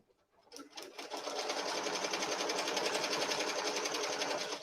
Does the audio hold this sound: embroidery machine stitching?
yes